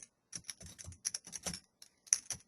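Someone types on a computer keyboard during a carpentry instruction session, producing quick irregular bursts of close, crisp key clicks with short pauses between words.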